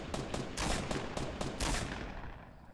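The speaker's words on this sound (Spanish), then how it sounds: "Los disparos estaban muy cerca." Gunfire in the video game Fortnite: several sharp, broadband shots in quick bursts, fairly close and loud, fading toward the end with no talk over them.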